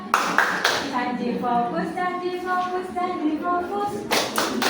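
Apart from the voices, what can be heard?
class doing a rhythmic clapping chant (tepuk semangat)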